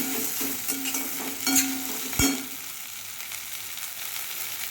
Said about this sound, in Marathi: आता याच्यामध्ये कोथिंबीर टाकूया कोथिंबीर दोन मिनिट परतून घेऊया